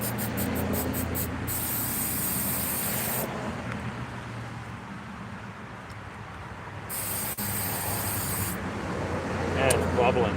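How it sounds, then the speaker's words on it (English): Two bursts of hissing spray from a spray can sealing a rusty spot, one long at the start and another midway, over a low rumbling background with faint talking. "maybe I'll give it a quick spray"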